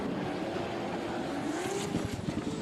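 Drift cars cornering hard at a Southeast Asia drift series round, a continuous loud engine roar with rising pitch and tire noise, sustained and fairly close throughout.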